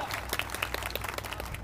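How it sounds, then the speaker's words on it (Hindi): An audience at a press club swearing-in ceremony claps briskly, a dense, fairly quiet patter of hands over a low steady hum, with no talk. "इसके लिए जोरदार तालियां"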